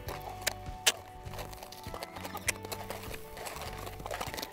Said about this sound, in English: And step the horse around in a circle.